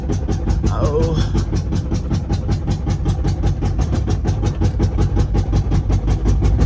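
An LML Duramax diesel engine runs with a broken crankshaft, giving a loud, close, steady rhythmic knocking and clatter that carries on without a break.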